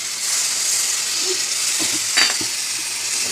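Boiled potatoes frying in a pan sizzle steadily while a spatula stirs them in a few soft scraping strokes, heard up close with no talk.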